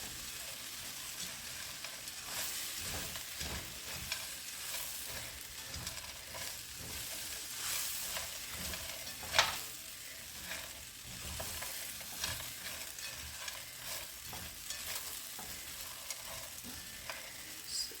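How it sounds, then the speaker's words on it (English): Food toasting in a pan gives a steady, soft sizzle with occasional stirring scrapes and one sharper clink, fairly quiet and close, with no talking. "while this is toasting, I'll let it toast for another few seconds"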